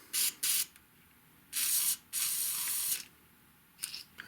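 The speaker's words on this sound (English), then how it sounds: "I'll spray a little bit down." Several sharp hissing bursts from a WD-40 aerosol spray can, two quick short ones, then two longer sprays, and a final brief puff.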